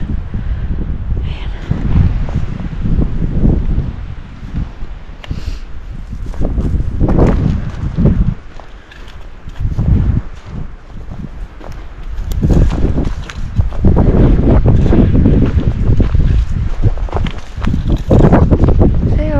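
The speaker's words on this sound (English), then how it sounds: "No, you're in the wind here too." Strong wind gusting across an open mountain meadow on a ridge, loud and buffeting the microphone in uneven surges throughout, with footsteps and faint movement mixed in.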